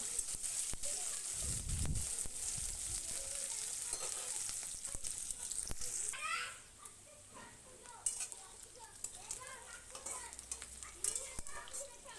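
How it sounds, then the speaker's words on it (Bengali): Onions fry in oil left over from frying potatoes, a faint, steady sizzle that eases partway through, broken by light clinks and scrapes of a utensil against the pan. "ওই তেলটার মধ্যে আমি পেঁয়াজগুলোও ভেজে নেব"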